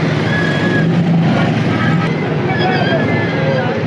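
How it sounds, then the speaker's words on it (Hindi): Heavy, congested city traffic heard from inside a shared rickshaw near Kalma Chowk: a dense, steady roar of engines and road noise, with crowd babble and occasional horn-like tones running throughout. "ट्रैफिक बहुत है, ट्रैफिक बहुत जाम है"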